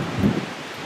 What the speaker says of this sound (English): It's just getting out of the rain.